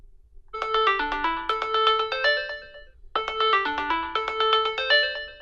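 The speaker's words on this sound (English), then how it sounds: "if I hit this button, my phone starts ringing until I unlock it" A phone ringtone, set off by the Ekster smart wallet tracker card, plays a bright repeating electronic melody in two close, loud cycles with nothing else heard.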